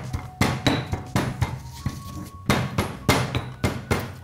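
Three small garlic cloves crushed in a kitchen for Armenian thelbats kubati, giving about a dozen sharp, heavy thuds in an irregular pounding rhythm, close and fairly loud, with no talking.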